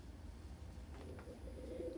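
A pet bird, a pigeon or dove, gives soft, close coos in a quiet indoor space, with a few gentle low calls near the end.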